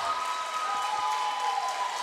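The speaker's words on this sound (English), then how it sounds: "Maggie Miller coming out to a well-deserved round of applause" Spectators at a girls' high school basketball semi-final applaud as a player leaves the game. The clapping is steady and soft and sounds distant in the gym, with a faint tonal hum running beneath it.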